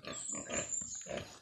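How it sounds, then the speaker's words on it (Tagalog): Sow pigs on a farm grunt and oink in a quick close burst of several short snorting calls. "Yung mga inahin baboy guys."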